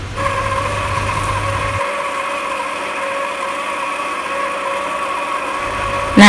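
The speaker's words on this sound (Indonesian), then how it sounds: "ini kita mixer dulu" An electric mixer whirs steadily at close range as it blends flour and margarine into dough, a constant motor hum with a strained, lower-pitched stretch in the middle, without speech.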